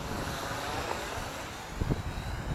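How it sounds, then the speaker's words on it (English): A big gust of outdoor wind on a sunny day buffets the microphone during a Syma X8W quadcopter flight, a continuous low rumbling roar that swells slightly toward the end, with no talking. "Oh yeah, big gust of wind that time."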